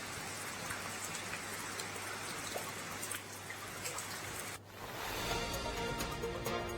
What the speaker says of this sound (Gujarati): સુરત જિલ્લાના ગ્રામ્ય વિસ્તારમાં ધોધમાર વરસાદ છે